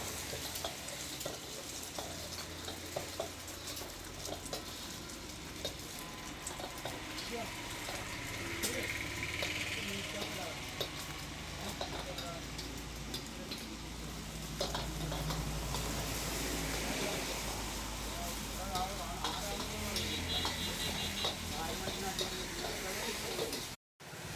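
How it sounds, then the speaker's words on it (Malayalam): Egg sizzling in hot oil in a pan as the first step of fried rice, a steady frying hiss with occasional stirring scrapes running throughout, fairly close, with a low background hum underneath. "ആദ്യം തന്നെ പാന് ചൂടാക്കിയിട്ട് അതിനകത്ത് എണ്ണ ഒഴിച്ച് മുട്ട ഒഴിച്ച് ഒന്ന് ചുറ്റിയെടുക്കും"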